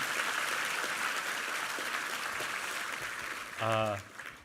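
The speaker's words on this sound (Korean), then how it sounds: "격려 박수 부탁합니다." A church congregation applauds during a Sunday worship service, steady dense clapping filling the hall for several seconds, then fading as a voice briefly speaks over the tail.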